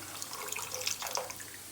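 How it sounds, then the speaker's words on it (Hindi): Water poured from a vessel into red lentils (masoor dal) in a pot, a close, soft splashing trickle with small drips, gentle and unbroken throughout. "अब हम इसमें पानी डालेंगे, इसको हिलाते जाएं"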